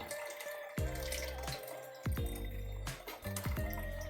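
Coconut milk strained from grated coconut pulp, with liquid dripping and trickling in a few irregular splashes close by, quiet overall.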